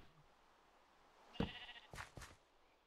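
Sheep bleating in the video game Minecraft: two or three short wavering bleats in quick succession after a quiet start, fairly close and clear against a soft background.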